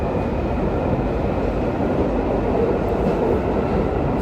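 A London Underground Northern line train runs through a tunnel near Highgate, giving a loud, steady, continuous rumble and roar without a break, with no talk over it.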